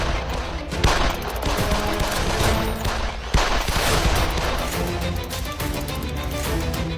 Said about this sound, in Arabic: ومع استمرار المواجهة النارية